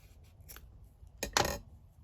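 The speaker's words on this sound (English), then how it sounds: "Let's just cut this lace down." Scissors cutting lace: a couple of quick, soft snips up close, with faint rustling in a quiet room.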